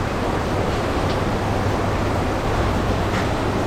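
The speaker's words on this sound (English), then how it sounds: "pouring with rain again" Heavy rain pours steadily on a windy day in Johor Bahru, Malaysia, a dense, loud and unbroken hiss that fills the whole stretch with no voices.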